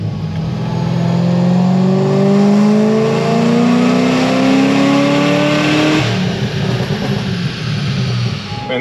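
A supercharged C6 Corvette engine revs up loudly in a long rising sweep, holds high, then drops back to a rough idle with uneven throb.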